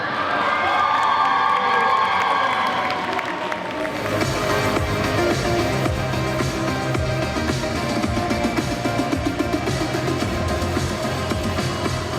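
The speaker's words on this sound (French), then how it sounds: "je vous demande d'applaudir bien fort Ai Mizuno et Sakura Minamoto de Zombieland Saga" An audience at a cosplay competition stage show cheers and claps, with a brief burst of crowd noise, then a steady wash of applause, shouts and whistles for a Zombieland Saga performance.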